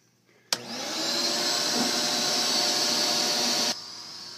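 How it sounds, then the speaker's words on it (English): A vacuum cleaner being used to pull string through electrical conduit switches on abruptly and runs as a steady, loud whine and roar for about three seconds, then cuts off. "So what I'm going to do is turn the vacuum on."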